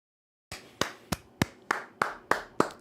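Slow, deliberate hand claps, about eight evenly spaced sharp slaps, close and fairly clean against a quiet background.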